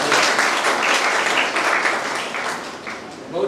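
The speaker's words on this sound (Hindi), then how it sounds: "एक बार ताली।" Dense, steady applause from an audience at a Hindi comedy poetry show, loud and continuous throughout, easing slightly before a final swell.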